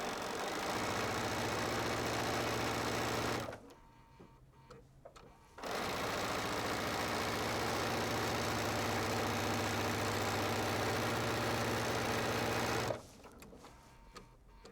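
A sewing machine runs loudly and steadily while strip-piecing quilt strips with a quarter-inch seam along the edge, stopping twice for a brief pause.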